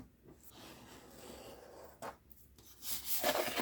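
A pen marking lines on material while laying out a Silhouette Cameo 4 LED wall art shadow box piece; quiet, close scratchy strokes come in short bursts with brief pauses between them, with no talking.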